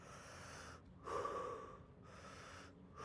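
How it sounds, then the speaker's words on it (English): Deep, loud breaths taken close to the mic before ice bath immersion, alternating long inhales and exhales in a slow, steady rhythm with no talk. "So I'll get in, I'll do about 10 deep breaths."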